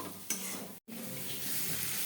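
Food fries in a pan while being stirred during home cooking, a continuous close sizzle broken briefly by a short pause and a scrape of the utensil.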